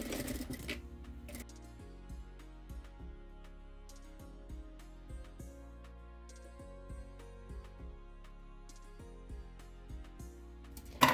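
Sewing machine stitching the lining of a shopper tote bag, running in repeated short bursts with brief pauses between runs, fairly quiet and steady, no voices.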